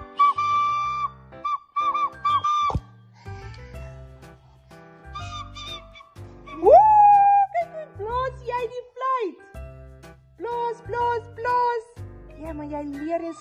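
A person whistles a tuneful melody in short phrases, some notes sliding, with pauses between phrases, for a children's music activity.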